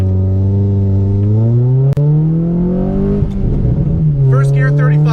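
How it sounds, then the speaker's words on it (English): Nissan Sentra SE-R Spec V accelerating hard from first through third gear, loud close engine note climbing steadily with a sharp gear shift near two seconds and another around three, pulling on to the end. "We're gonna do a first to third pull."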